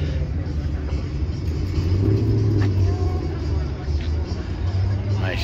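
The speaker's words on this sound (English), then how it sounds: "Nice Chevelle." A Chevrolet Chevelle at a marina car gathering gives off a steady low engine rumble close by, with people talking over it and crowd noise in the background.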